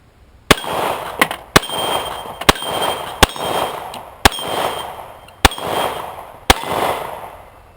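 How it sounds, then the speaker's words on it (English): A Colt Lightweight Commander Wiley Clapp Edition pistol fires 230-grain ball rounds at steel plates 12 yards away, sending out eight sharp, loud reports at a fairly even pace, each followed by a ringing metallic clang from the plate. "Colt Lightweight Commander Wiley Clapp Edition, shooting Freedom 230 grain ball, plates at 12 yards."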